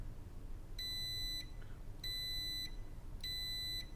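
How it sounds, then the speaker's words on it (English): A digital multimeter on continuity mode gives three identical steady electronic beeps, each about two-thirds of a second long and evenly spaced, as the probe leads touch together on an electronics workbench. The beeps are clear over a quiet room hum. "it's a lot nicer if I can hear the beep"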